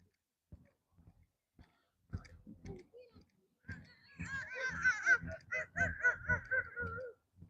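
A person beside the Union Canal in Edinburgh mimics ducks with a run of nasal, honking quacks, rising into a loud burst of repeated calls after some scattered clicks and mouth noises.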